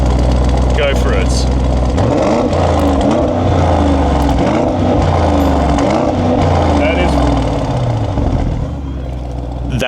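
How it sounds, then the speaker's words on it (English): Petrol V8 exhaust of an Audi SQ7 facelift, loud and close, revving repeatedly in sharp blips from a rumbling idle, each rise dropping back with a burbling, crackly note. "let's hear V8, go for it"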